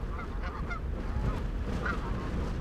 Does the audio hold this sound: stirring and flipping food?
no